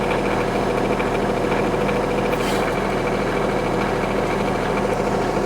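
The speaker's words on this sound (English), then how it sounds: "I'm actually using the boom and stuff here on the backhoe and moving it to the side" A Kioti CS2520S compact tractor engine runs at a steady idle while its backhoe boom is shifted sideways, producing a constant, loud, low rumbling drone with even vibration and no speech.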